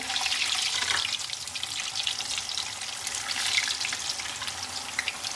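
Stuffed bitter gourds (karela) frying in a pan, giving a steady hiss of bubbling oil with a watery sizzle that stays fairly quiet and even throughout, with no talking.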